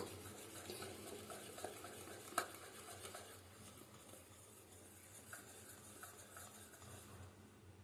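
Cake batter being stirred by hand for a homemade cake, a soft, quiet scraping and swishing with one sharp clink partway through, no talk.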